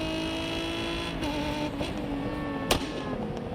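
Centenar car in the racing game Test Drive Unlimited Solar Crown drones at a steady engine tone, with a few short exhaust pops and one sharper crack near the end.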